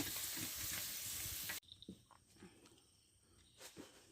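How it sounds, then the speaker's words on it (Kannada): Puris fry in hot oil for pani puri, a loud bubbling sizzle that cuts off abruptly after about a second and a half, leaving faint scattered crackles and quiet handling noises. "ಪೂರಿಯನ್ನು ಎಣ್ಣೆಯಲ್ಲಿ ಕಾಯಿಸಿ ಆಗಿದೆ ನೋಡಿ"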